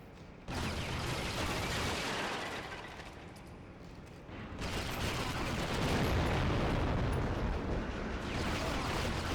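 Sustained, dense gunfire in the 007: Agent Under Fire video game while shooting an enemy, a continuous loud roar of shots with a brief dip in intensity partway through.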